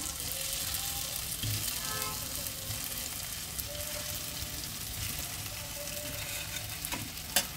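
Fried potatoes go into a sizzling tomato masala for a jackfruit and prawn curry, producing a soft, steady frying hiss with light stirring clatter and a sharper knock near the end, quiet and without speech.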